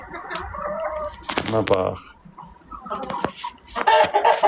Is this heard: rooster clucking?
yes